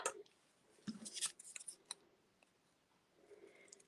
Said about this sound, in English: I will just trim that off with my scissors.